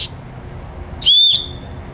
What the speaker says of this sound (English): So survival whistle, signal whistle if you need that.